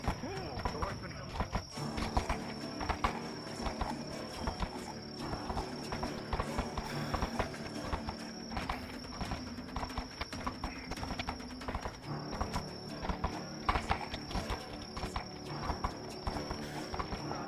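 Horse hooves clip-clop steadily and rhythmically in the VRChat roleplay game Fractured Thrones, a continuous close trotting beat with voices talking over it.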